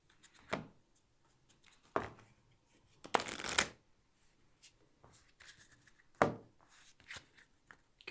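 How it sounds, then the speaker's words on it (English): A large deck of playing cards is riffle shuffled in several separate bursts, each a crisp, close flutter of cards snapping together, with one longer ripple midway and soft handling noises in between. "That's a lot of cards to riffle shuffle,"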